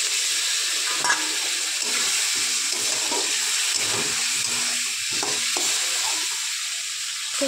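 Potatoes and spices sauté in a pan as a splash of water hits them, a strong steady sizzle broken by repeated stirring scrapes and spatula knocks.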